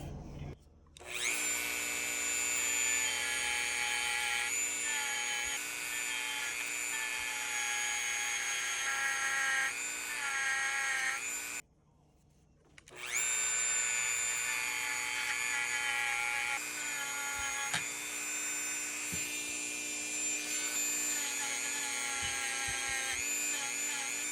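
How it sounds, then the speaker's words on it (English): A Dremel rotary tool spinning a wire brush against a Buck 112 or Schrade Uncle Henry pocket knife gives a steady, loud, high-pitched whine that runs almost unbroken, stopping briefly once before starting up again. "I'm fitting to get the wire brush on my Dremel tool."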